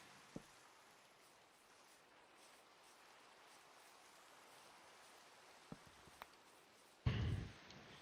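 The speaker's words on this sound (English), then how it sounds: "Rain." Steady rain falling outdoors, a continuous soft hiss with a few isolated drips and taps, ending in a brief louder splash or rustle near the end.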